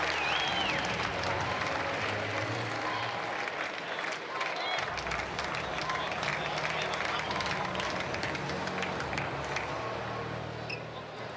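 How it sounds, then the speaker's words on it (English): A tennis crowd at the RAC Arena during a United Cup 2024 match applauds and cheers steadily throughout, loud and sustained, with scattered camera clicks and a commentator talking over it. "Alejandro Davidovich Fokina looking for applause, and he gets it"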